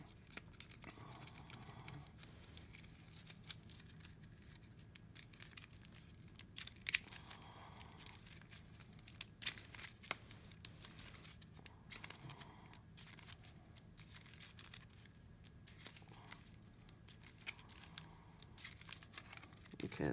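Cards for the Villainous board game being shuffled by hand, with repeated soft riffling, crinkling bursts in an uneven rhythm, faint and close.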